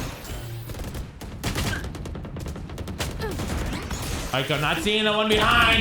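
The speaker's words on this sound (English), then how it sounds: "Gunfire everywhere." Rapid gunfire from the video game Valorant crackles in bursts alongside crashing impacts, while a player talks over the action and a bright ringing effect rises near the end.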